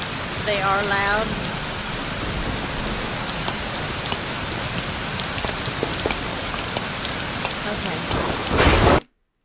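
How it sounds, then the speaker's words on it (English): Steady heavy rain with rumbling thunder during a thunderstorm in the video game Rising World, a dense continuous downpour with low rolls throughout that cuts off abruptly near the end. "Let me know, is the storm too loud?"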